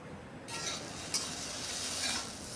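Okra (bhindi) frying in a kadai: after a brief quiet start, a dense, steady sizzle rises and continues, with a faint clink of a utensil partway through.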